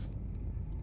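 A brief, soft, low rumbling purr from a cat in the video game September 7th, steady and close, lasting under a second.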